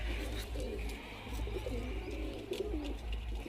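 A Madrasi pigeon cooing softly and repeatedly, faint and fairly close, over a low steady background hum with a few light ticks.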